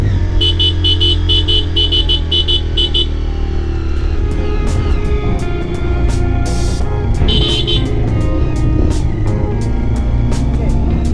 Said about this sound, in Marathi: तर तुम्ही हॉर्न यूज करा.